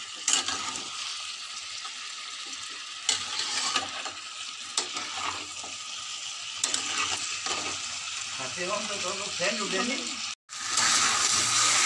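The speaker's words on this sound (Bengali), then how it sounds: "মাংসটা পুরো কষা হয়ে গেছে" Mutton kosha frying in oil and spices in a pan on a home stove, a steady close sizzle with stirring scrapes and clinks throughout, with a brief dropout near the end.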